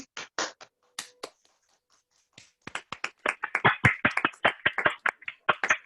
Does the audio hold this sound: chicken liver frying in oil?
no